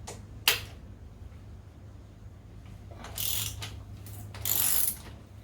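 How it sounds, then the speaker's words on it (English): A ratchet works on a bolt on a Honda CBR600F4i engine during removal, giving a sharp click followed by two short bursts of quiet, close ratcheting clicks. "let's go ahead and use the actual ratchet"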